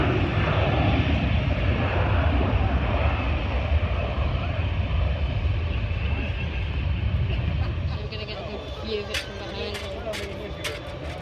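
Close, loud jet engine roar from a Kuwait Air Force C-17 Globemaster taxiing at Manchester Airport, a broad steady rumble that eases slightly near the end while people talk nearby.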